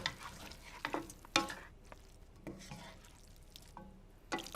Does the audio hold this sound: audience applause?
no